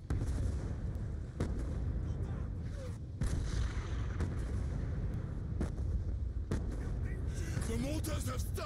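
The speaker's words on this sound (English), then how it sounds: "The mortars have stopped!" Mortar fire in the video game Call of Duty: Black Ops 2, with repeated heavy booms and blasts punctuating a rumbling battle backdrop while voices talk over the barrage.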